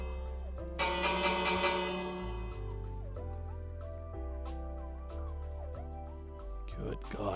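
A village bell in Minecraft clangs repeatedly at a steady pace, ringing metallic strikes layered over background game music, with someone talking partway through.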